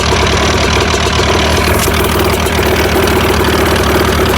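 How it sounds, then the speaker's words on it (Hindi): A paramotor engine runs at idle close by, a loud steady mechanical rattle with a rhythmic knocking pulse and a constant low drone. "अब आप यहाँ पे देख सकते हो इंजन के रनिंग एंड आइडलिंग आरपीएम इसमें शो कर रहा है।"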